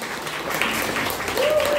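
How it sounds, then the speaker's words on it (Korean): Applause from a small café audience after an acoustic guitar concert, steady and fairly close, filling the whole short stretch while a voice speaks over it. "다시 한번 박수 부탁드립니다"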